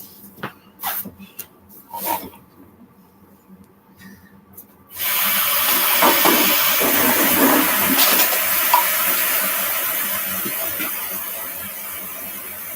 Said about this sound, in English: stick my hose in the neck, and I'm going to turn it on. Let's fill up this suit.